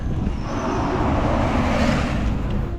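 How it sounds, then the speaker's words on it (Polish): A bus passing close by on a road in Spain, a steady broadband engine and road roar that holds loud and continuous for the whole stretch with no talk. "Autobus"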